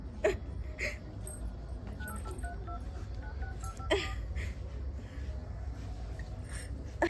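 A mobile phone being dialed gives a series of short, evenly spaced keypad tones, faint against a steady background hum, with no talking.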